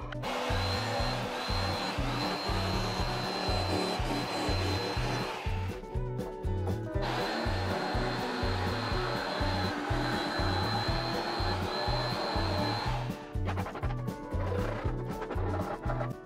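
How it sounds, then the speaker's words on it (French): A power jigsaw cutting wood for a birdhouse buzzes with a fast, rattling drone, pausing twice briefly before starting again, close and loud throughout. "Je vais donc découper ça à la scie sauteuse"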